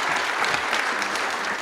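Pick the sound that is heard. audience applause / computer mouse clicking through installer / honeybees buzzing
audience applause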